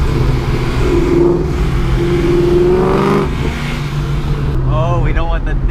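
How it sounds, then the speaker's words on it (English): A Honda engine with VTEC revs hard, its rising and falling pitch sweeping up and down through the clip, steady and close, with voices talking over it. "You can hear the VTEC"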